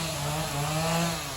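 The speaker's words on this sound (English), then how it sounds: "That guy over there with the chainsaw is getting the work done." Chainsaw cutting wood while a family cemetery is cleaned, a steady buzzing whine with a slight rise and fall, moderately close and alone.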